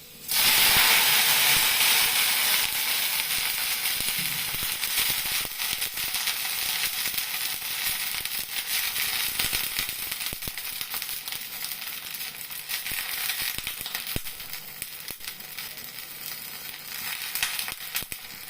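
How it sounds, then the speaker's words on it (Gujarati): Hot oil hisses and crackles loudly as a garlic tempering drops into it, then keeps sizzling steadily with faint scrapes and clicks throughout. "હવે આપણે તેલ આવી ગયું છે, લસણની કળી લાલ થઈ ગઈ છે। હવે વઘાર કરી નાખું।"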